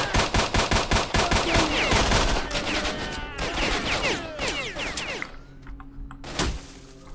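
Rapid automatic weapon fire from bandits in STALKER: Shadow of Chernobyl, a dense, loud stream of shots with ricochet whines and clattering, tapering off toward the end, then a final sharp impact.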